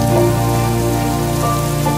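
Rain falling during a NASCAR race delay, a dense, constant wash of drops hitting a surface, loud and unbroken, with a steady hum underneath and no voices.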